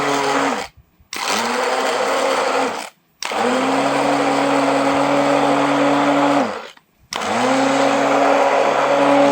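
A hand blender whirs through a mango milkshake made with milk and chilled water, running in three loud, steady bursts separated by short silent pauses, with no talking.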